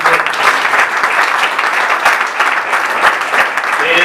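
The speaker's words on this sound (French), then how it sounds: "vous pouvez les recevoir sous les applaudissements." A crowd gathered at a school event applauds to welcome guests with loud, continuous, dense clapping, close by, with a voice faintly audible beneath it.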